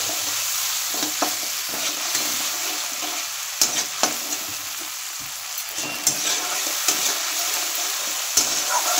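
Tomato paste sautéing in a pan for bitter gourd kofta curry, a steady close sizzle broken by occasional sharp scrapes and taps of a spoon stirring against the pan.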